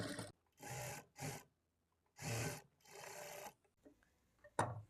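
A sewing machine stitches a blouse seam in short bursts, five loud runs of rapid whirring separated by near-silence, followed by a few faint handling clicks.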